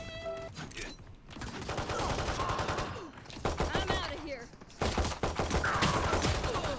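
Rapid bursts of Classic pistol gunfire in the video game Valorant, repeated sharp shots in clusters over game effects and background music, with a voice talking at times.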